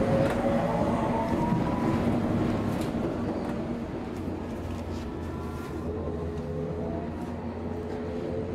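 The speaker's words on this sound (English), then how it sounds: "This is an all stations Metropolitan line train to Uxbridge." Inside a London Underground Metropolitan line train running, a steady low rumble of wheels and motors with rail noise, continuous and moderately loud throughout, no talking.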